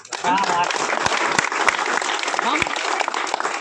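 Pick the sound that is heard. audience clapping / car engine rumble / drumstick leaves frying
audience clapping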